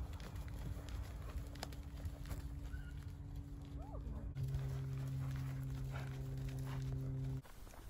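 Horse named Voss cantering on the gallops, with a steady rhythm of hooves and rider movement close up, muffled and continuous, with a low hum underneath.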